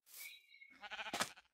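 A single Minecraft sheep bleats, a short wavering cry followed by a second rougher bleat, close and clear with nothing else around it.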